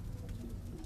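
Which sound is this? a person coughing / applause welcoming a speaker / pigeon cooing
pigeon cooing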